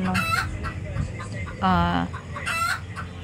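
Chickens cluck nearby in a few short, throaty calls, one drawn-out squawk in the middle, with faint background noise.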